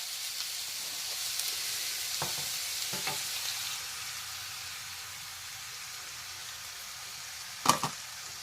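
Tofu being stirred in a frying pan, a steady soft sizzle running throughout with a few sharp scrapes of the utensil against the pan and one louder clack near the end.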